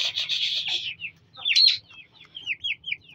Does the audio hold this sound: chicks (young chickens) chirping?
yes